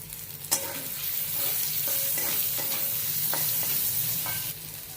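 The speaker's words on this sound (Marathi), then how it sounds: "हा बटाट्याच्या फोडी त्यामध्ये टाकून परतून घेऊया" Potato pieces sautéing in a pan with turmeric and salt, a steady close sizzle running throughout with scattered scrapes and clinks of a spatula stirring them.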